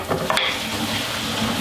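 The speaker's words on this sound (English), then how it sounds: "while that's sautéing in the pan" Leftover vegetables sauté in a frying pan with a steady close sizzle, broken early by a few quick scrapes of stirring.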